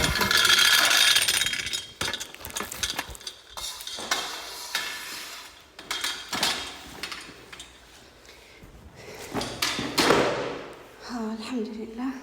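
Iron pieces from a shop stand are set down while packing up, making irregular clanks, knocks and thuds of varying loudness close by, with a voice talking at times.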